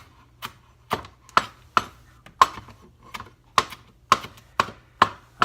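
A kitchen knife chops fresh garden parsley on a cutting board, a series of crisp, close, sharp knocks at an uneven, moderate pace, about a dozen strokes, with no talking.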